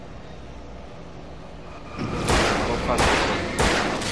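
Gunfire in the Xbox 360 game Alan Wake, several loud bursts of shots arriving in clusters over the last half, under a faint background and a brief spoken exclamation.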